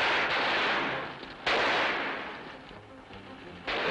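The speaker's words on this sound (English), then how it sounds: "The shots fired by the parking lot attendant failed to stop the bandits." Sharp gunshot effects in an old radio crime drama ring out as a few spaced blasts, each followed by a long decaying echo, loud and without talk over them.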